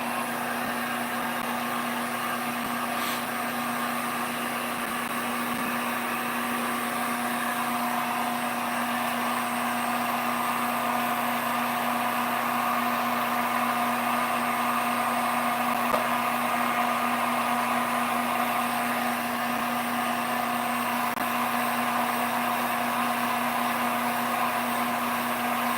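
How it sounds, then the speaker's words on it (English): A heat gun drying black paint on a wood-turned ornament, a loud steady motorized blowing whine with a constant pitched hum held unchanged for the whole stretch, no talking. "I'm gonna get my heat gun and dry that black"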